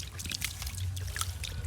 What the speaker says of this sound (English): Now I put some water.